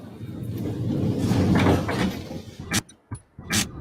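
A train door on the Tube Sim game operates: a sustained mechanical whir and rush builds and fades, followed by several sharp clunks and bangs as the door finishes moving, fairly close with no speech.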